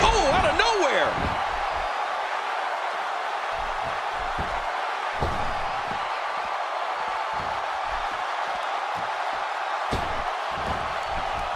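A crowd at a wrestling match between Chaos and Tornado keeps up a steady roar of cheering throughout, with scattered sharp slams and thuds from the ring and voices rising above it.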